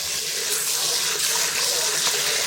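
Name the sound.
rinsing rice under running water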